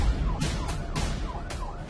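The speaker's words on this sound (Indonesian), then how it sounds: "tumben banget ya subuh-subuh gini ada suara ambulan." Ambulance siren heard at dawn, wailing in repeated rising sweeps over a steady low traffic rumble, fairly loud and continuous with no voices.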